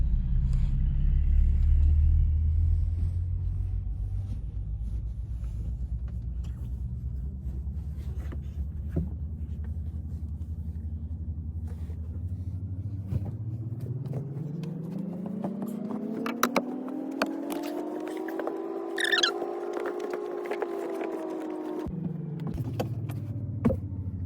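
A truck engine running: a low rumble at first, then the engine revs up, rising and holding high before dropping back near the end, steady and fairly loud throughout.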